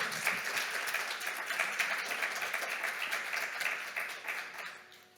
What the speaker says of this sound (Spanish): aplausos por la presentación